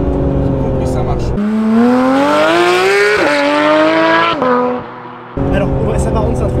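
A non-turbo sports car built for extreme driving pulls hard under acceleration, its loud, close engine note climbing steadily in pitch, dropping at quick gear changes, then settling to a lower drone.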